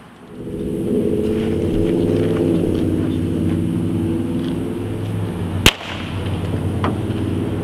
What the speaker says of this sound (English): So here I have a small common firework that explodes.